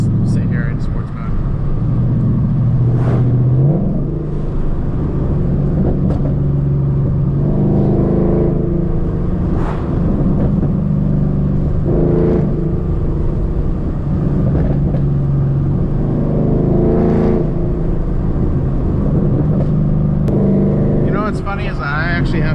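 A car with a new tune cruising in sport mode: a steady, close engine drone rises and falls through gear changes, with someone talking over it.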